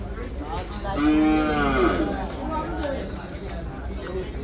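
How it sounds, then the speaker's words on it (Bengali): Cattle bellowing at the Gabtali livestock market among beef cattle, with one long loud moo up close and fainter lowing after it, as people chatter in the background. "এগুলো সব হচ্ছে কষাই গরু"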